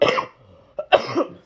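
A single person's cough, two short harsh bursts close to the microphone in a quiet indoor room, with a brief breath between them.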